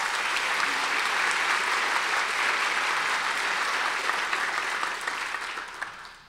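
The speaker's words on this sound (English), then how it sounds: "We encourage applause, so please do." An audience at a University of Iowa Carver College of Medicine commencement applauds steadily, a dense wash of clapping that holds for several seconds and then fades.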